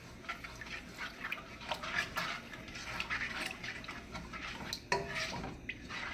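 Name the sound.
stirring ogbonno in okra soup pot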